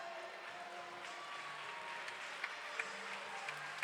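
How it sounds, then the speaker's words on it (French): Spectators at a women's basketball game between Tarbes and Charleville applaud a player coming onto the court, a moderate, even patter of clapping across the arena with a few sharp squeaks or taps near the end. "Les applaudissements pour Joyce Gustensmith qui va rentrer."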